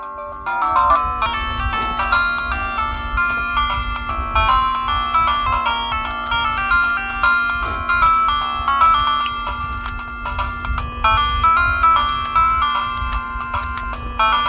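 Bright, beepy synthesized music from the MS-DOS game Dick Tracy plays continuously, with a bouncy melody over a steady low drone and pulsing rhythm, chiptune-like and tinny.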